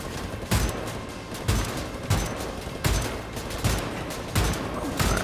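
Heavy gunfire from the shooter game Wolfenstein: The New Order, loud bursts of fire hitting roughly every second in a steady rhythm over a constant dense clatter, with no talking.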